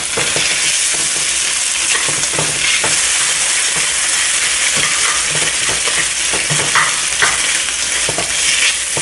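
Egg stirred and frying in a hot pan for Thai pork fried rice, a steady dense sizzle with scraping stir strokes throughout, loud and close, no talk.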